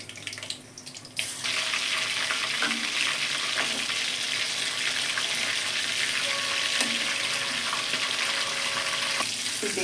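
Niher fish pieces coated in grated coconut fry in a pan over low gas, giving a steady broadband sizzle that swells after a quiet start, with faint utensil clinks now and then.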